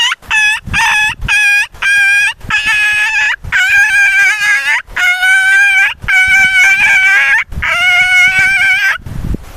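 A human voice imitates a small dog yelping, with a rapid run of high, whiny yelps in quick bursts, loud and close, without other sounds.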